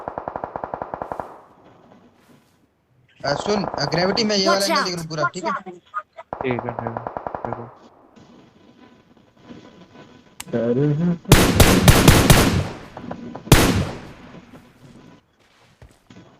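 Bursts of automatic gunfire from an online shooter video game, with rapid rattling volleys and sharp loud shots interleaved with excited players talking over voice chat.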